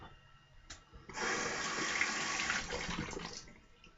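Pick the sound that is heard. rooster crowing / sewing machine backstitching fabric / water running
water running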